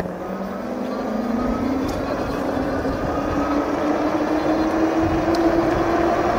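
Lankeleisi MG600 electric scooter at full throttle in a top-speed test: a motor whine climbs steadily in pitch as it accelerates, over constant wind rush, with a few faint clicks.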